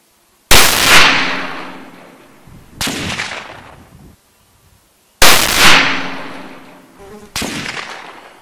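Two loud, sharp gunshots from a Verney-Carron Express double rifle in 8x57 JRS, each with a long decaying echo, followed by quieter reports of a second pair a few seconds later.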